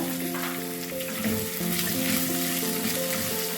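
Mango pieces and curry leaves sizzling in hot oil for a Kerala fish curry, a loud, continuous close crackle with a steady frying hiss throughout and no talk.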